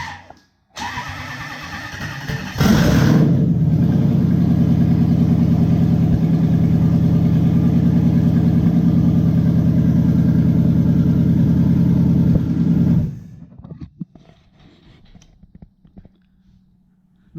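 A Lexus 1UZ-FE V8 with fault codes P1300 and P1305 cranks briefly, then fires into a loud, steady idle for about ten seconds before shutting off and fading to quiet, heard up close with no talking.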